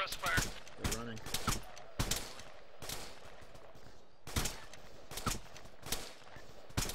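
Gunfire in the military video game Arma 3 during a squad operation, with repeated sharp bursts and single shots, some near and loud, others farther off, with radio-style voices talking over and between the volleys.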